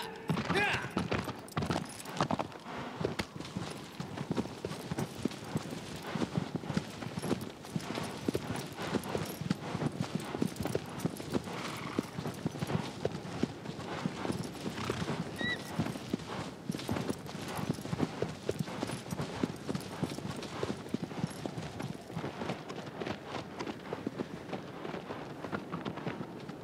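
Horse hooves beat in a steady, fast clip-clop through a long stretch of riding in the video game Shadow of the Colossus, with someone talking intermittently over the continuous galloping.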